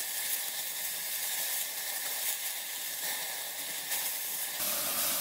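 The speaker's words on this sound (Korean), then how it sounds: "양배추도 똑같이 볶아주면 됩니다." Cabbage stir-fries in a hot pan with a steady, faint, hissing sizzle that runs evenly throughout, with no one talking.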